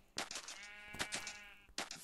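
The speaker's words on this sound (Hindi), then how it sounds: "एक और बकरी, चल इसको भी जाल में फंसा दे" Goat bleats in a survival video game, three loud wavering calls close together over a quiet background.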